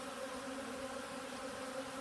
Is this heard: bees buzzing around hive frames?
yes